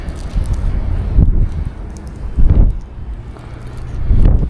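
Wind blowing across open sea on a small fishing boat, a steady rough buffeting rush with low gusty swells rising and falling every second or so, close to the microphone with no voices.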